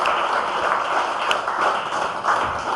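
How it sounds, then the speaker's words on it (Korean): A church congregation applauds in worship, a dense, steady wash of many hands clapping at moderate loudness throughout, with no pauses. "주님께 영광의 박수 드리겠습니다"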